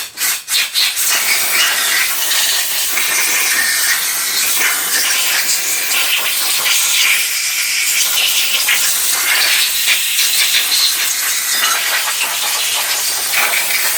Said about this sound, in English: I should really give it a blast off with the airline, shouldn't I?